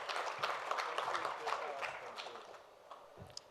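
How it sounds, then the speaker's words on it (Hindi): Applause breaks out at a media group event in India, a crowd clapping in a scattered, moderately dense patter that gradually thins out, with some faint talk underneath. "जोरदार तालियां"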